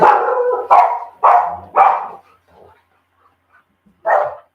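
Dogs give a quick run of four loud, close barks, then a few faint yips, and one more bark after a short pause.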